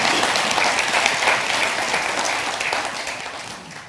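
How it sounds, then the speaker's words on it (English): Audience applauding after a keynote talk at a conference event, dense sustained clapping from a crowd that gradually fades toward the end. "ladies and gentlemen, first of all, a round of applause for Paddy, please."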